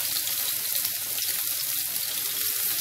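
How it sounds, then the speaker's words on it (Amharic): Onions frying in a pan for a burger, giving a steady, loud, hissing sizzle throughout with no pauses and no talking. "ሽንኩርት እንደዚህ ተላላ ተጠብሳለሁ።"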